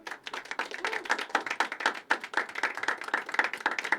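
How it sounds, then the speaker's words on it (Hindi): A small open-mic poetry audience claps steadily for a performer, crisp individual handclaps in a quick irregular patter, close and fairly quiet, with no voices over it. "जोरदार तालियां एक बार जय जी के लिए।"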